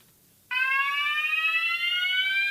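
A fire alarm sounder starts abruptly during an alarm test and rings continuously for about two seconds, a loud steady electronic tone with no talk over it.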